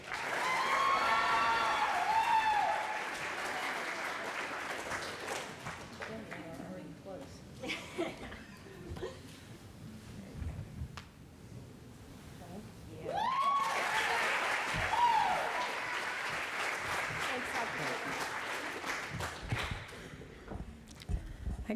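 Audience applause and cheering fill a white coat ceremony hall, loud bursts near the start and again midway, fading into scattered clapping and chatter with some laughter between.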